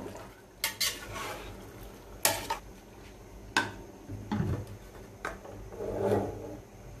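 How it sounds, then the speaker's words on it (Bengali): Beef with ginger, garlic and a little water stirred in a pressure cooker, then the lid fitted: several sharp metallic clanks and scrapes of a spoon and lid against the pot, close and fairly quiet, with no talking. "এখন একটা নাড়া দিয়ে ভালো করে প্রেসার কুকারের ঢাকনা লাগিয়ে দিব"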